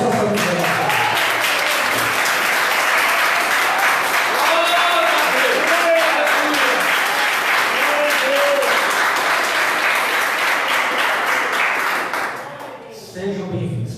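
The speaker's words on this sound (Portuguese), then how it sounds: "nós vamos aplaudir ao Senhor pela vida dessa família." A church congregation at an evening teaching service applauds in praise, sustained loud clapping with voices mixed in for about twelve seconds before it thins out and fades.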